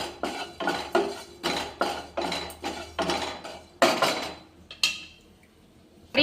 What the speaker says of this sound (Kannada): ಉದ್ದಿನಬೇಳೆನೂ ಸ್ವಲ್ಪ ಚಟಪಟ ಅಂದ ತಕ್ಷಣ ತೆಗೆಯೋಣ.